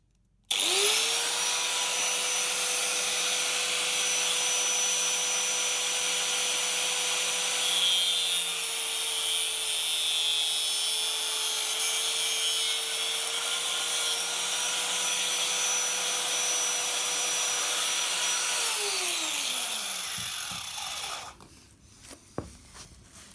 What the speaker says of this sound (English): So just with a cutting disc on the grinder, and we need a nice straight cut.